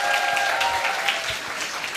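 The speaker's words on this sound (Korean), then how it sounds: "조규철 스폰서님께 다시 한번 큰 박수 부탁드립니다" Audience clapping at a corporate growth event in Korea, a steady burst of applause with a faint tonal hum underneath.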